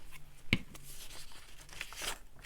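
Paper tears from an old altered-book page, likely German print spattered with paint, heard as a short close rip with crinkling and rustling around it, quiet overall.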